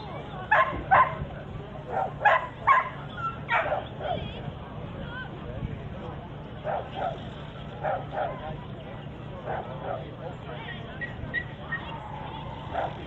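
Dog barking at an agility event, a run of sharp barks and yips in quick bursts, loudest early on and then scattered, with people talking and crowd noise underneath.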